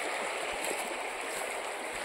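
A small, slippery river stream flows in a steady, broadband rush of water close by, with a constant hiss and faint gurgles and no voices.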